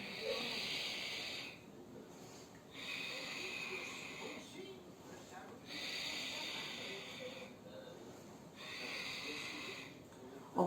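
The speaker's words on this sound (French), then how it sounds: "On inspire et on souffle" Forceful breathy exhales during an abdominal and glute workout come as repeated hissing breaths in a loose rhythm, with an instructor talking between them.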